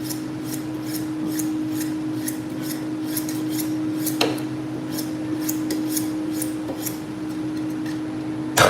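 Knife edge honed with rhythmic metallic strokes, steady rasping scrapes repeating about twice a second over a constant background hum, close and moderately loud, one sharper scrape near the middle.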